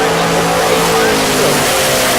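A Camaro and a Mustang drag race at Tulsa Raceway Park, their engines roaring loudly and continuously beneath a commentator's voice.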